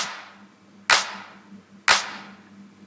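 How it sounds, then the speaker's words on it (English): Three sharp drum-machine clap hits, evenly spaced about a second apart, each with a bright, airy decaying tail from a high-shelf boost by the Fresh Air plugin, no voices. "especially on the tail of the clap, you can hear this beautiful high shelf EQ with this great plugin Fresh Air"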